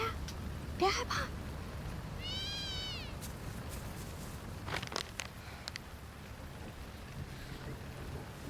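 Stray cats meow at night as someone feeds them outdoors, with one clear drawn-out meow near the middle and shorter cries around it, set against steady wind and low background rumble.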